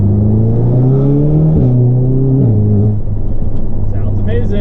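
A tuned Audi S3 Stage 2+ with 034 Motorsports parts revs under a bridge, its engine note rising and stepping through gears with strong intake and exhaust drone, close and loud.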